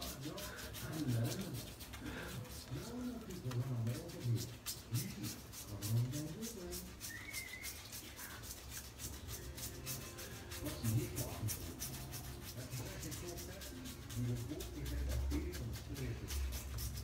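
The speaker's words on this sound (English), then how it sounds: "I'm just going to dip the soap in the water and then just rub it all over my head" A bar of Ogallala Bay Rum with Sweet Orange soap is rubbed over a wet head in slow, close scrubbing strokes that come in uneven waves, with some quiet talk mixed in.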